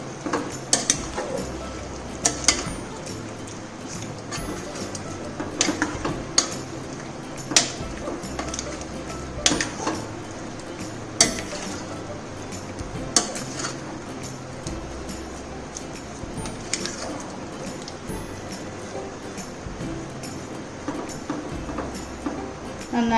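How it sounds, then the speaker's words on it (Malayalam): Yogurt being stirred into avial in a pot, a series of scattered clinks and scrapes of a spoon against the vessel, moderately quiet, with soft background noise between the strokes. "നന്നായി ഇളക്കിയിട്ടുണ്ട് തൈര് ചേർത്തിട്ട്."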